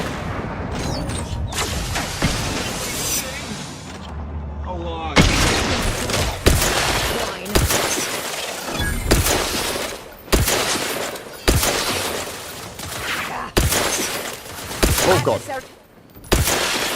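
Gunfire in the video game Outer Worlds 2, dense repeated shots and bursts with booms and mechanical clatter, loud and near, someone talking over the fighting.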